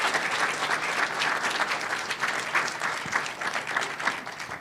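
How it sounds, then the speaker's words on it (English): A conference audience at the 2023 North Dakota Transportation Conference gives a speaker a steady, warm round of clapping, many hands blending into a continuous patter heard alone. "So if we could give Justin a warm round of applause."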